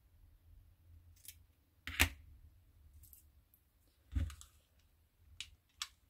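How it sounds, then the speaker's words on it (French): Scissors cutting small pieces of lace, a few quiet, separate snips and clicks spaced over several seconds, close but soft. "Je vais en couper deux bouts."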